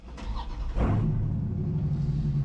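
A Dodge Challenger engine cranks briefly and catches, then settles into a steady low idle rumble, close by and fairly loud.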